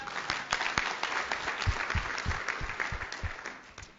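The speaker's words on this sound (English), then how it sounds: "So give yourselves a round of applause." A conference audience at the USENIX Security 2017 opening session gives a round of applause: steady, dense clapping that fades slightly toward the end, heard alone without talk.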